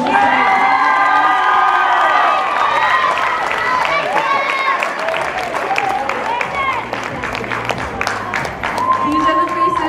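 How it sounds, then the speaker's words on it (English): An audience at an evening awards event applauding the judges, sustained clapping mixed with cheers and whoops from a large crowd, loud and continuous, with a voice over a speaker system at the start. "Can we get another big round of applause for our judges tonight?"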